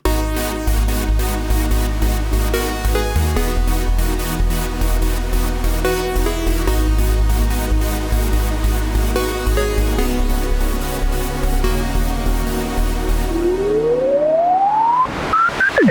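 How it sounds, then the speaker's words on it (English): An example electronic song built entirely with the Native Instruments Massive synth plays loud and dense, with a pulsing bass, layered synth chords and a rising pitch sweep near the end. "I made an example song, and it sounds like this."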